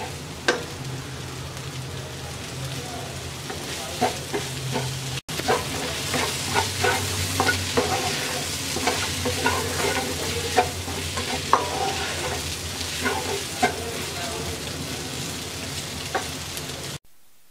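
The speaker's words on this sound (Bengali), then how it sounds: "এবার আমরা 2 থেকে 3 মিনিটের মতো রান্না করব।" Okra and egg frying in a pan for an egg bhindi bhaja, a steady sizzle broken by repeated scraping stirs of a utensil throughout, close and alone with no talk.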